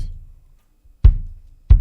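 Two deep kick drum thumps land about two-thirds of a second apart, punchy and close, with a low rumbling decay between them.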